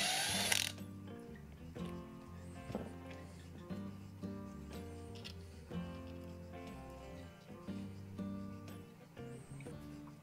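Ratchet turning out the mounting bolts of a Husqvarna ignition coil: continuous quick clicking of the pawl over about ten seconds, steady and close, with faint tonal ringing in the background.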